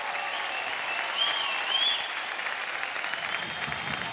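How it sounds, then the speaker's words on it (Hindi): A large studio audience at India's Best Dancer applauds a dance duo's performance with loud, steady clapping that holds at full strength for the whole stretch, mixed with faint crowd noise. "जोरदार तालियां हो जाए।"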